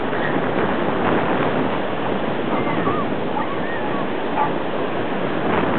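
Ocean surf rolls in steadily at a dog beach, a continuous broad wash of waves with some wind noise over the microphone, loud and close throughout.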